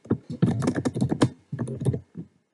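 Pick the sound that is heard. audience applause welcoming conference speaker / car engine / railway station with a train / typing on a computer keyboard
typing on a computer keyboard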